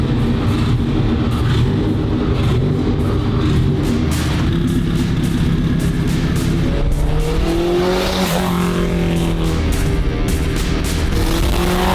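A 1,000 hp car engine revs loud and close, a continuous heavy roar that sweeps up and down in pitch throughout, with no voices over it.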